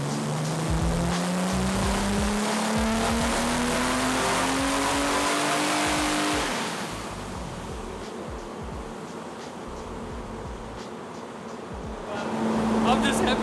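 BMW E30 M Tech II engine running on a dyno, with a loud sustained drone whose pitch climbs steadily as it revs up, then drops back to a lower roar before rising again; a voice is faintly heard.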